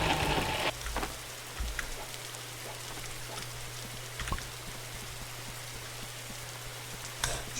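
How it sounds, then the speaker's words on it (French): Steady rain pours down throughout in the forest survival game 99 Nights in the Forest, a dense continuous hiss with a few brief louder knocks and bumps along the way. "Bah, il a recommencé à pleuvoir. Il arrête de pleuvoir et il repleut."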